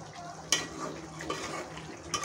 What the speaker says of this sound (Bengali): এখন আমি এটা বেশ কিছুক্ষণ এভাবে আলতোভাবে নাড়িয়ে চাড়িয়ে পুরোপুরি আচারটা রান্না করে নেব।